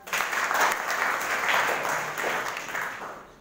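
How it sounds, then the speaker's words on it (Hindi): A school audience claps together in a short, loud, dense burst of applause at a school event, swelling and fading over a few seconds. "ताली बजाओ।"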